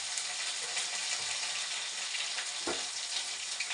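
Cumin, ginger paste and turmeric sizzle steadily in hot oil, a close, continuous frying hiss with a brief clatter near the end, no voices.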